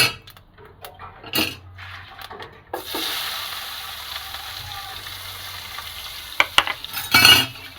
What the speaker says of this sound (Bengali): এবারে পেঁয়াজটা আমি একটু ভেজে নেব।